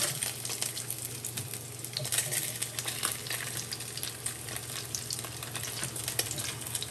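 Slices of home-carved pork belly of uneven thickness fry in a frying pan, giving a steady, dense sizzle with crackling pops throughout, close and continuous with no talk.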